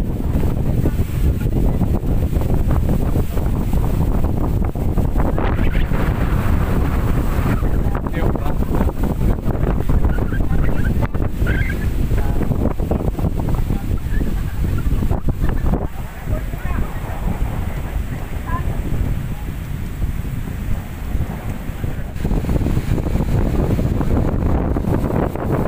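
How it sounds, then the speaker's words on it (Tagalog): Strong, steady wind roars and buffets the microphone throughout, with the rumble of a boat on water beneath it; a voice is faintly present. "sobrang lakas pa rin na hangin"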